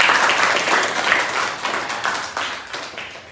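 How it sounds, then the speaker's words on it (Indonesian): A classroom of students claps for a group, a burst of fairly close, dense clapping that fades unevenly over a few seconds. "Tepuk tangan untuk kelompok"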